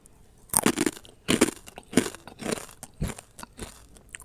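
Crispy fried tempe snack is bitten and chewed up close, with a sharp loud crunch followed by a series of rhythmic crackling chews spaced about half a second apart.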